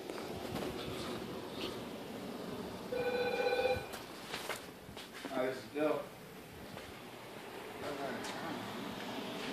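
A telephone rings in a room with a short burst of electronic ring tones, fairly close, while people talk around it and footsteps and background noise continue.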